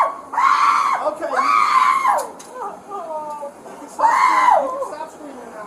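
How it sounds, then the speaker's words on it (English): A woman screams repeatedly in long, loud, strained wails at an airport during a police encounter, with shorter cries between them and background chatter underneath. "Stop screaming now."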